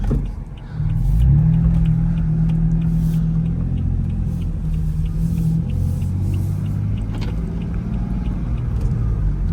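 A car engine idles and then rises into a steady, loud, low rumble that holds, with slight shifts in pitch as the revs change, heard up close.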